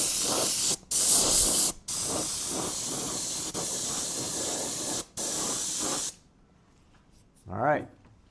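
Steady hiss of a spray can laying candy blue paint onto a Kyosho Beetle RC car body, several bursts of about a second or more separated by short pauses, close and loud; a brief voice follows.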